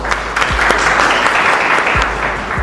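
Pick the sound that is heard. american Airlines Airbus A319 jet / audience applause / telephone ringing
audience applause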